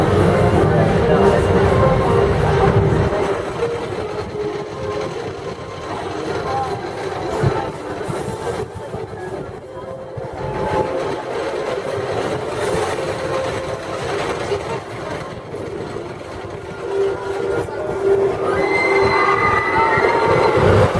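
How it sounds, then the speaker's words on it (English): The Kings Island amusement park train ride rolls along with a loud, continuous rumble and rattle of cars and wheels, and faint squeals rise now and then. The sound stays close and steady throughout. "on the train ride here at Kings Island"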